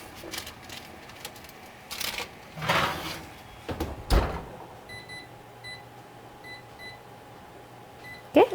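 Several thin electronic beeps from a kitchen oven timer being set for baking at 350 degrees, scattered among clatter and handling noises, with short steady tones repeating in the latter half.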